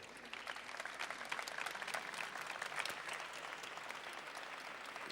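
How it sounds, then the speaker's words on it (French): Audience applause at a corporate environment awards ceremony, steady dense clapping from a crowd lasting throughout at moderate distance, with no talk over it. "je crois qu'on peut applaudir"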